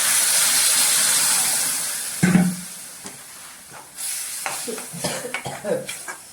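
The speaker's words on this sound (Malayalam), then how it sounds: "അപ്പൊ നമുക്ക് ഇതിലേക്ക് ഇത്തിരി ചൂടുവെള്ളം ഒഴിച്ചു കൊടുക്കാം കേട്ടോ" Hot water poured into a pan of Kerala-style dam fish curry, giving a loud burst of sizzling steam that fades into quieter bubbling and scattered clinks of pan and utensil.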